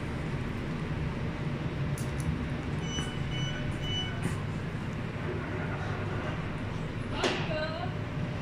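A metro train runs with a steady low rumble throughout, with faint squeaks and a brief sharp screech near the end.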